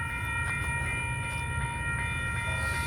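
A passing freight train sounds a sustained horn blast, its steady multi-tone chord held loud and unbroken over the low rumble of rolling railcars.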